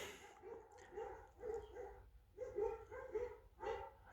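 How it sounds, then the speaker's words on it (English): Farm dogs bark near a John Deere 2520 tractor being repaired, giving a string of moderately distant, repeated barks and yips in short bursts over several seconds with no talk. "Dogs think it's feeding time."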